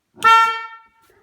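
A single short, loud honk from a Polaris Ranger 1000 utility vehicle's EP30 premium horn in a garage, a bright buzzy tone lasting under a second before cutting off.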